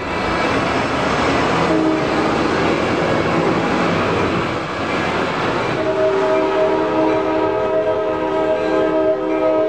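A Coaster commuter train numbered 657 sounds its horn leaving the MTS yards past the Gaslamp, steady chorded blasts over rumbling rail noise, the horn clearer and sustained in the second half, loud and fairly close.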